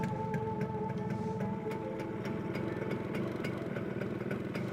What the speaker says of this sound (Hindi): बाइक से आवाज कैसी आ रही है?